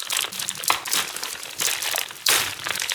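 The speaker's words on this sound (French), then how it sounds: "je vais directement commencer par ouvrir le colis" Parcel packaging crinkles and crunches up close as a gift box of 3x3 puzzle cubes is opened, with three louder bursts of rustling and tearing that shift and subside in between.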